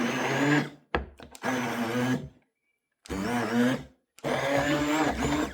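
A blender whirs loudly in bursts while mixing lye into oils for homemade soap, running in three or four close, strong stretches separated by brief silences.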